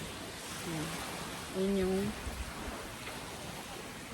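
Sea waves at a beach cove resort in Marinduque, a steady broadband wash of surf under relaxed conversation from people nearby.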